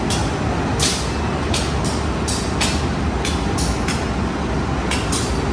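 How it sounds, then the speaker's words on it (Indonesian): A CC 201 diesel locomotive being coupled to the Dharmawangsa passenger cars at a station platform gives a steady close rumble, broken by a series of short, sharp hissing and clanking bursts. "sekarang ini akan dipasangkan lokomotif dinas dari kereta api Dharma Wangsa dengan rangkaian kereta ya"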